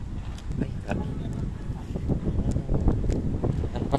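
Gusty wind buffets the microphone with low rumbling bursts at Puerta Real Gardens in Intramuros, while people talk nearby.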